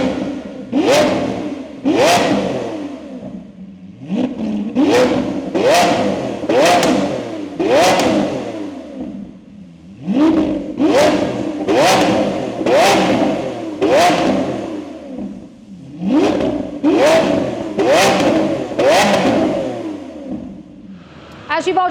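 Lamborghini Aventador S fitted with a Capristo exhaust is revved repeatedly in a workshop, sharp loud bursts climbing and falling in quick clusters with brief gaps between, close and alone.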